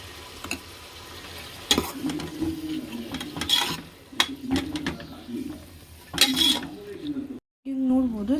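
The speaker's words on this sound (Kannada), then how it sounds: "ಫ್ರೈ ಆಗಿದ ತಕ್ಷಣ ನಾನು 2 ಸ್ಪೂನ್ಸ್ ಶುಂಠಿ ಬೆಳ್ಳುಳ್ಳಿ ಪೇಸ್ಟ್ ಹಾಕ್ಕೊಳ್ತಿದ್ದೀನಿ. ಆ್ಯಂಡ್ ಫ್ರೈ ಮಾಡ್ಕೊಳ್ಳೋಣ ಸ್ವಲ್ಪ ಹೊತ್ತು." Ginger garlic paste, two spoonfuls, frying in a pan for ghee rice, with a steady low sizzle broken by scraping stirs and clinks of a spoon against the pan; a brief gap near the end.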